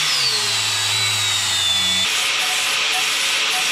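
A power tool grinds down an aluminum intake flange for a turbo 3.0 boat engine, a steady loud whine with a falling tone that drops off partway through, continuing as broadband grinding noise.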